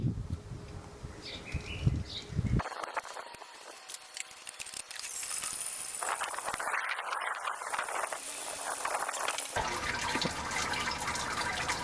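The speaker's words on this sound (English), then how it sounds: "Time to do some sparging." Water for a homebrew Dogfish Head 60 Minute IPA clone is sparged over the mash, a steady close hiss and trickle of pouring liquid running throughout with small shifts in flow.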